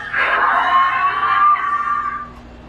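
Shrill animatronic alien prop at a haunted museum lets out a sustained, wavering shriek lasting about two seconds, loud and close, with no talk over it.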